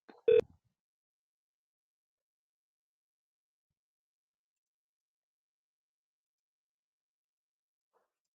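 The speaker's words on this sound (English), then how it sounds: "Let's dial." A short burst of telephone touch-tone dialing on a call-center system, one brief tone cluster at the start, then near silence for the rest of the clip.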